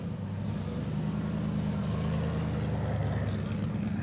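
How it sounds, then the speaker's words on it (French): Classic Alfa Romeo race car engine at the Le Mans Classic 2023, a steady, loud low rumble that holds fairly constant across the moment with no talk. "tiens, ben voilà encore une voiture. Voilà, ça c'est une Alfa Romeo qui a gagné."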